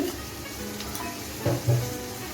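Onion frying in a pan as cumin powder goes in, a steady low sizzle with a couple of brief louder bursts near the end, close and alone.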